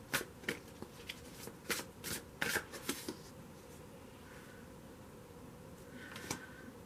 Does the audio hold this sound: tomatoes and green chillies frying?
no